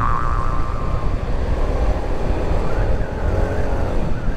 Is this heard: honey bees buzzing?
no